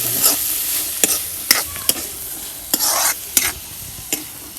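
Chickpeas frying in a pan: a steady, hissing sizzle broken by repeated sharp scrapes and clacks of a stirring utensil, close and loud, with no talking.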